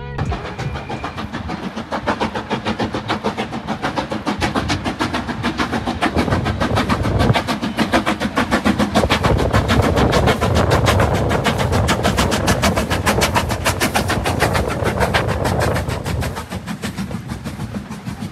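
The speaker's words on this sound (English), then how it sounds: "the Black 5 steam loco is going to be leaving this time" A Black 5 steam locomotive rumbles past in winter with rhythmic clattering of wheels over rail joints, loud and close, building and holding steady before easing slightly.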